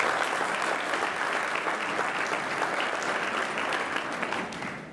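A round of applause from an audience, dense and continuous clapping at even strength that tapers slightly at the very end.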